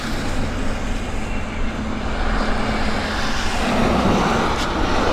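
USAF heavy aircraft landing at Abbotsford, with a steady loud roar of jet or propeller engines close by and broad rumble throughout.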